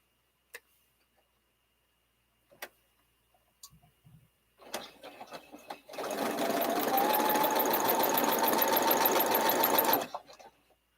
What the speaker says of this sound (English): So I'm going to pick it up and sew on the line.